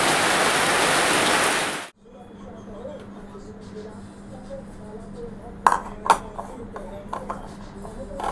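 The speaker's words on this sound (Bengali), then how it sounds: "বৃষ্টি টিপ টিপ করে পড়ছে" Light drizzling rain makes a steady, loud hiss for about two seconds, then stops abruptly. A quiet room follows, with a few scattered clinks and taps.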